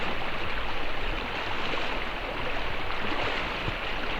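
A river rushes steadily past, its broad, hissing flow filling the scene with a continuous close wash of water noise and no talking.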